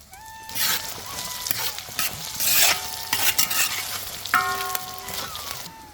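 Salted garlic fries in a pan for Kerala garlic pickle, a close, steady sizzle broken by repeated spoon scrapes and clinks against the pan, with no talking.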